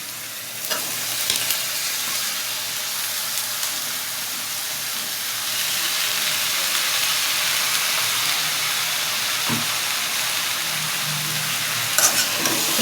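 Potato and snake gourd bhaji frying in a pan, a steady broadband sizzle with occasional stirring clinks and scrapes, close and continuous without speech.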